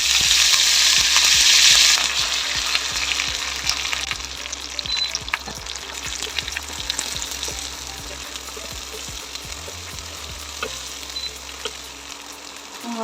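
Dried red chillies and cumin seeds frying in hot oil for a Tamil prawn gravy, a loud, steady close sizzle with faint scraping stirs through it, strongest in the opening seconds and then settling to a softer, even crackle.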